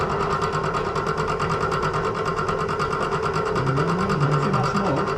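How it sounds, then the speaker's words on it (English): A power drill runs steadily and close up with a constant whirring motor drone, its pitch shifting slightly near the end, during work on a barn-find single-cab VW Bus restoration. "Now, is the drill bit going backwards, everyone at home?"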